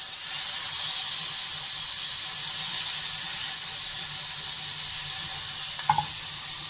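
Corned beef hitting a hot oiled pan gives a loud, steady hiss and sizzle that holds evenly throughout, with a brief clink of a utensil near the end and no talking.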